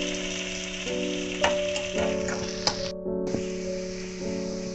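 Potatoes frying in a pan for a Spanish omelette give a steady close sizzle, broken by a few sharp clicks and scrapes of stirring, over a constant tonal kitchen hum.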